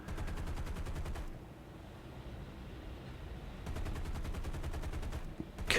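Rapid machine-gun fire aimed at a bomber plane in the combat flight game War Thunder, sustained bursts of fast, evenly spaced shots over a steady engine drone, cutting out briefly before resuming.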